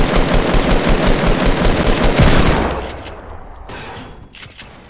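Rapid automatic gunfire in the video game Fortnite hammers away loud and dense for over two seconds, then thins into scattered, more distant shots.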